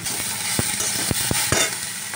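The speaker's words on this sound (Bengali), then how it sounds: "ভালো করে নেড়ে নেব" Ivy gourd frying with poppy seed paste, turmeric and salt is stirred in a pan, giving a steady sizzle broken by a few sharp spatula scrapes, close and alone.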